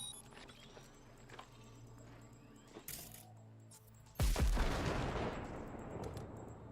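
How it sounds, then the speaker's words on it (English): A grenade goes off in Cyberpunk 2077 with a sudden heavy boom that fills the mix with loud rumbling debris and a fading roar. Quieter clicks and game sounds come before the blast. "Now, detonate the grenade."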